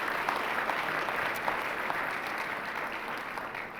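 Warm, steady applause from a large audience at an awards event, dense even clapping holding at a constant level from start to finish.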